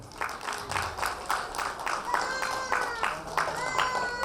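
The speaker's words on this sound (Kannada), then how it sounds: "ಜೋರಾದ ಚಪ್ಪಾಳೆ." An audience at a school annual day claps in a rhythmic, pulsing way, with a voice and some tonal sounds running underneath.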